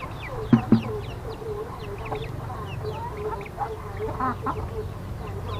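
Chickens cluck and squawk nearby, with a couple of sharp loud calls early on and scattered quacking-like calls throughout, set against outdoor background noise.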